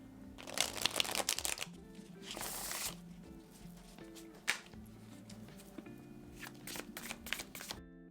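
Light Seers Tarot cards are shuffled close by in quick papery riffling bursts, with pauses between and softer card slides and taps, no voice over it.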